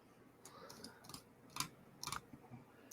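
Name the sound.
tapping on a computer keyboard or mouse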